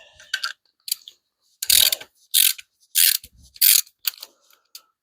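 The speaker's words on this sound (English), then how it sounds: "now that bolt there, I gotta use a ratchet wrench on or something the way it looks" A ratchet wrench loosens a bolt on a Plymouth Duster, clicking in a few short bursts of close, sharp ratcheting with brief pauses between the strokes.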